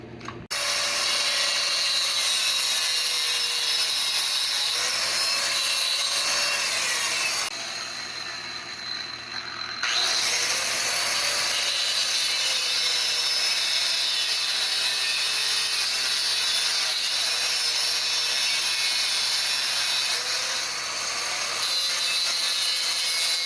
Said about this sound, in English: I'm going to take all 4 of these bolts and cut the head off the barb